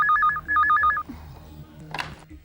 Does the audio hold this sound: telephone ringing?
yes